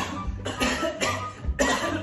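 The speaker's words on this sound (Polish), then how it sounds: "tylko to jest zwykły kaszel" A single ordinary cough, with repeated harsh bursts of coughing sounding close and fairly loud, alone without any talk.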